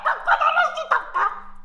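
A person's voice imitates a chicken with loud, close, warbling clucks in two quick bursts.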